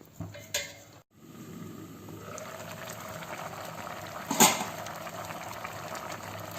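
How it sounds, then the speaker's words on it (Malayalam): A pot of lemon curry bubbles at a steady simmer, a soft continuous hiss with low burbling, marked by a clunk early on and a brief clatter midway. "നാരങ്ങാക്കറി നന്നായിട്ട് തിളച്ച് വന്നിട്ടുണ്ട്."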